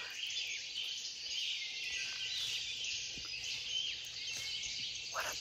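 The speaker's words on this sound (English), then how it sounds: "What a beautiful symphony of bird song." Morning woods in Massachusetts carry faint, distant birdsong, a dense layer of chirps and trills over a low, steady background hum, with no one speaking.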